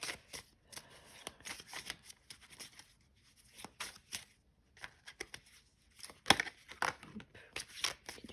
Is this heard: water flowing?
no